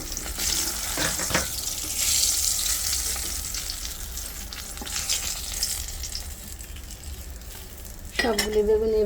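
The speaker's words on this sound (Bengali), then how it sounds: "সবগুলি বেগুন এইভাবেই ভেজে নিব।" Eggplant slices frying in hot oil in a kadai give a steady broadband sizzle with brief clatters of stirring, close and fairly loud; a short tonal burst near the end cuts in over the frying.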